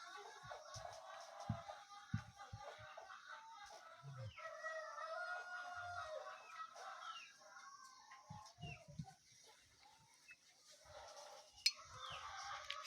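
Laying hens in a poultry house cluck and call in scattered bursts at a low level. A rooster-like crow and soft rustling are also present, with some distant talk.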